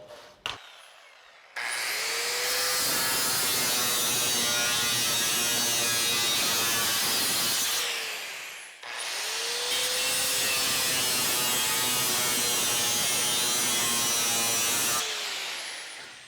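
A power tool grinds loudly and steadily through sheet metal, cutting the seams off to make skid shoes for a Hesston PT-10 hay mower, in two long continuous passes separated by a brief pause.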